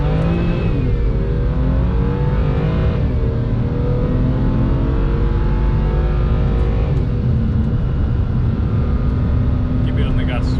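A car engine pulls hard on a race track, its pitch climbing in steady sweeps as it accelerates, loud and close throughout, with people talking over it.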